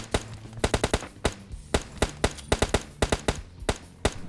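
Gunfire in the mobile battle royale game PUBG Lite: sharp shots in quick irregular bursts, some doubled or tripled, crisp and fairly close over a low background hum.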